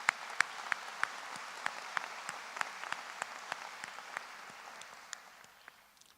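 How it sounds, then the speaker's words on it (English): Scattered clapping from an audience at a medical school graduation ceremony, with sharp individual claps standing out over a faint patter that thins and fades toward the end. "I would like to give you a big applause."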